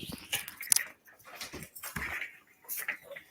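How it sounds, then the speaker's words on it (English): Dogs whimpering and yipping indoors in short, high-pitched bursts at moderate loudness, with a little background voice activity mixed in. "I have to let the dogs out."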